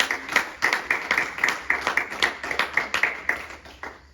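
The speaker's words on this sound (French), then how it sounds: "Nous acclamons pour la gloire de Dieu." A church congregation claps in a steady rhythm, sharp handclaps repeating about three times a second, close and moderately loud with a little voice underneath.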